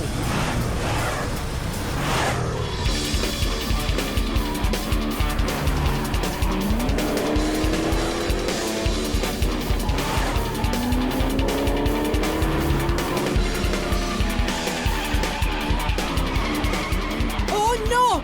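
A cartoon race car starts and speeds off, a loud continuous engine roar with rising whines and squealing tires, while a voice talks over it.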